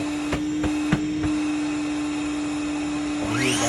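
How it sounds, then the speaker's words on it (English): A vacuum pulls up dust from a DIY dining table project, a steady close whine and whir with a few sharp knocks early on and a rising pitch at the end. "So here that vacuum."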